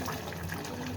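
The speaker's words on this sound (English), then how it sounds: "Now we will add a little rose water and kewra water" Rose water and kewra water are poured into a pot of shahi mutton korma, giving a quiet, steady trickling and splashing of liquid for about a second with no talk.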